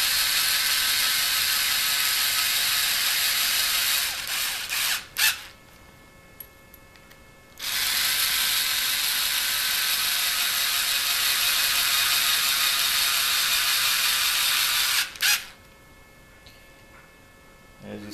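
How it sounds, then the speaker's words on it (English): A hand tool tightens a screw after a Harbor Freight 4.8V cordless drill, using an OFNA hex bit: two long bursts of steady mechanical whirring and ratcheting, close and loud, with brief pauses between them. "I'll come back with my hand tool and then double check the tightness"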